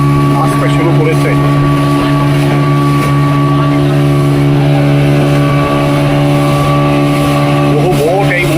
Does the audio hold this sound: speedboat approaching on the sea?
yes